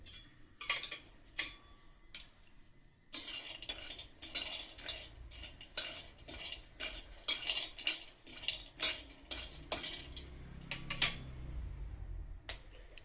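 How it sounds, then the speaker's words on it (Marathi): Peanuts dry-roasting in a pan get stirred and shuffled, giving repeated sharp clinks, scrapes and rattles of nuts and spoon against metal in an uneven rhythm, close and moderately quiet, with no speech. "इथे आधी मी आता शेंगदाणे भाजून घेणार आहे."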